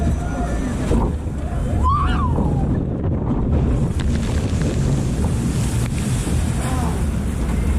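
A roller coaster train at Parc Astérix drops with riders aboard, producing a loud, continuous rushing roar of wind and track noise, with a brief whistling squeal partway through.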